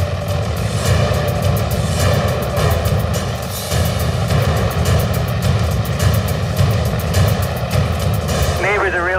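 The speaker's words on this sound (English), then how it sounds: "nobody likes the helicopters when it's noisy" Loud, steady rotor thrum with a deep pulsing beat fills the whole stretch, a helicopter hovering close overhead above a street for a water drop in Maui.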